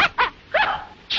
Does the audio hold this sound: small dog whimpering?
yes